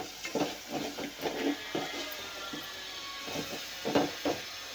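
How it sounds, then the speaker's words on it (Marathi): A spoon stirs toor dal with spices in a pot, giving a quiet, uneven run of scraping and soft sloshing strokes with a faint sizzle under it. "हे मिक्स करून घेऊया व्यवस्थित"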